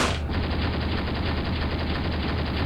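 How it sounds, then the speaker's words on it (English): Sustained, dense gunfire against dug-in enemy infantry in the Graviteam Tactics war game forms a loud, continuous rattle with no break and no talk. "he's still firing at these enemy infantry units, but they're well dug in"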